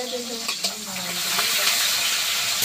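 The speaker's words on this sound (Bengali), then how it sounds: "তো তেলটা গরম হয়ে গিয়েছে, এবার কাঁচা লঙ্কার পেঁয়াজটা দিয়ে দিচ্ছি।" Onions and green chillies hit hot oil in a heated pan and a loud, steady sizzle builds and keeps going, with a brief voice early on.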